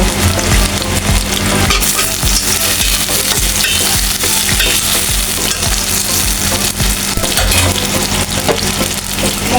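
Tomato and shrimp fry in a pan with a loud, steady sizzle that runs the whole time, with occasional stirring scrapes and no talking.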